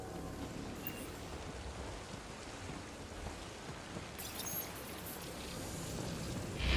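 Steady rain falls in an alien-planet setting in the video game Mass Effect: Andromeda, a continuous, even hiss of drops on surfaces with no voices.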